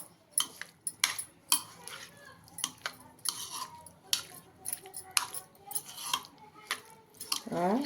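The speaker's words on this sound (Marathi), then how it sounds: "आणि आपल्याला आता हे सगळं मिक्स करून घ्यायचं" A spoon stirs pumpkin raita with crushed peanuts in a bowl, giving close, irregular clinks and scrapes against the dish at a steady pace, with no talking.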